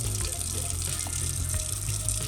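Tap water runs steadily into a robot vacuum-mop's water tank, a continuous close splashing gush with a low drumming undertone, constant in level with no speech.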